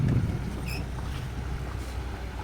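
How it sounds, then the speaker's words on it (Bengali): A trawler carrying bricks chugs along the Hooghly river near Diamond Harbour, a steady low engine drone under wind buffeting the microphone, with no talk. "সামনে দিয়ে একটা ট্রলার আসছে, এটা ইট নিয়ে যাচ্ছে।"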